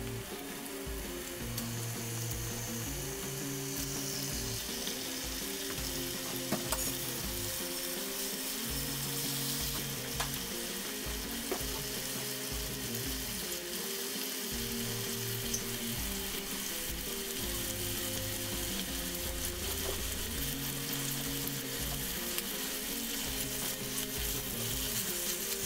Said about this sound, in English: Just get it in there until it gets a good little sizzle, and then kind of brown it on both sides.